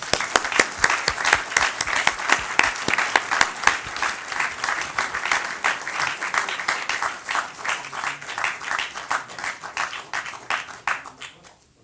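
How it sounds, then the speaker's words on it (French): Congress audience applauding to welcome Jérémy Azou: crisp, distinct claps, at first loud and fast, settling into a steadier, gradually fading rhythm before stopping abruptly. "Merci de l'applaudir"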